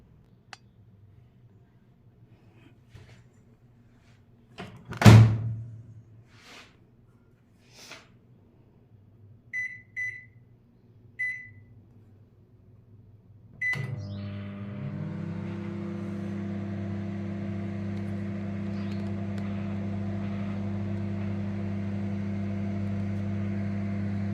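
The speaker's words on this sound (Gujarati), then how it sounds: "આને આપણે ત્રણ મિનિટ માટે ફરી માઇક્રોવેવમાં મૂકી દઈશું" A few clicks and beeps, then a microwave oven's steady low electrical hum starts and runs on evenly to the end while drying fenugreek leaves.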